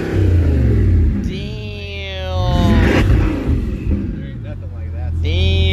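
Bugatti Chiron Sport engine revving up with rising and falling harmonics, loud and close, with excited voices exclaiming over it.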